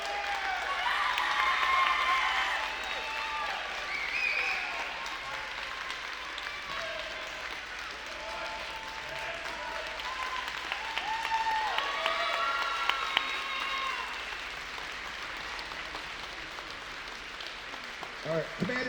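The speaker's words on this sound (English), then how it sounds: "let's give it one last round of applause for all our awardees." Sustained applause for awardees from a large audience at a high school NJROTC pass and review, loud at first and then tapering slowly, with faint voices mixed in.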